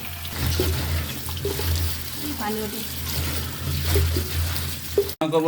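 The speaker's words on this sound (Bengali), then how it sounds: "কচু শাকগুলো কাটার পরে বেসিনে ভালোভাবে ধুয়ে নেব" Running water splashes steadily as taro leaves are rinsed under a tap in a sink, with a clunk near the end.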